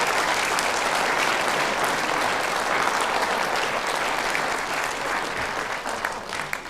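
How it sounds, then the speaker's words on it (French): Warm, dense applause from an audience at a mayor's New Year address, a continuous wash of clapping that gradually thins toward the end into a few separate claps. "Vous pouvez applaudir ces gens-là."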